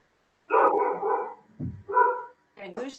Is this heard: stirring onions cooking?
no